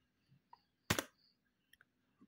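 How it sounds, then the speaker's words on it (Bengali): A single Enter key press on a computer keyboard lands as one sharp, close click, with a few faint keyboard taps scattered before and after in an otherwise quiet room. "এন্টার দিচ্ছি।"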